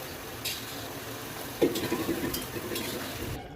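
Potato, jackfruit and goat liver sautéed with spices in a pan, a steady close sizzle with stirring scrapes swelling midway, no voices.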